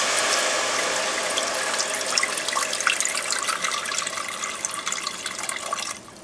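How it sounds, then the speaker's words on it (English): Mushroom and beef stock pours into a cooked roux for a Swedish meatball bake, a steady close liquid rush with faint clinks, stopping abruptly near the end. "At which point, we're going to add about half of this stock."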